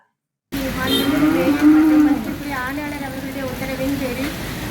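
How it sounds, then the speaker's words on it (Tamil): Cattle in a municipal cow shelter, where stray cows caught roaming the roads are penned, moo loudly and nearby in several long, drawn-out calls, with a steady background murmur throughout. "போக்குவரத்துக்கு இடையூறாக சாலைகளில் திரிந்த மாடுகள் அடைத்தம் பிடிக்கப்பட்டு இன்று கோசாலையில் அடைக்கப்பட்டுள்ளது"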